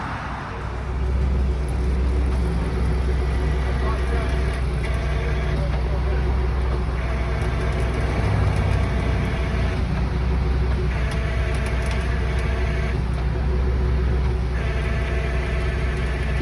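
A truck arrives at a snowy roadside winching scene, its engine a steady low rumble close by, with a voice speaking over it.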